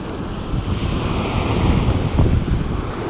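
Ocean surf pounds against coastal rocks while rock fishing at Wollongong, a loud continuous roaring wash with heavy wind rumble buffeting the microphone.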